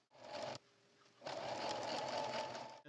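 A sewing machine stitches a 1.25-inch quilt strip, right sides together, in two close, steady whirring bursts separated by a short pause, with no talking.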